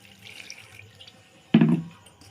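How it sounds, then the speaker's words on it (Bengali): A brief splash of water is poured into a ground spice mix with coriander powder to make batter for egg potato chops. The pour is a short, close gush after a quiet stretch. "এবার অল্প অল্প করে জল দিয়ে একটা ব্যাটার বানিয়ে নেব।"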